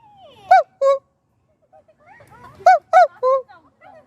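A man imitates a cuckoo call with his voice, giving loud two-note hoots in short pairs, separated by a quiet pause and soft murmuring.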